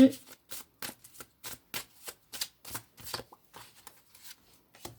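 A deck of oracle cards being shuffled by hand in a quiet room, producing a rapid series of about fifteen crisp riffling bursts at an even rhythm, close and fairly soft.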